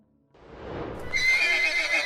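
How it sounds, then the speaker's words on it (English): An anxious, frightened horse whinnies in a long, rising neigh that swells loud and close, with faint hoof shuffling at the start; no talking. "but it continued to neigh, anxious and scared."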